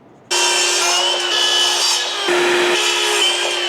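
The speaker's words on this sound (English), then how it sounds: "we need to get two other boards cut with a 45-degree cut on both the tops" A power saw cutting wood boards at a 45-degree angle for shiplap trim, starting abruptly and whining loudly and steadily at close range, its tone dipping slightly partway through the cut.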